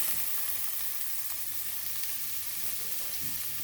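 Garlic and ginger sizzling in a clay pot, a steady soft crackling fry with faint stirring, no talking.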